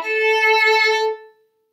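A single sustained violin note in third position from the folk tune Aura Lee, bowed steadily and clearly for about a second before it fades out, solo and close, with no talking.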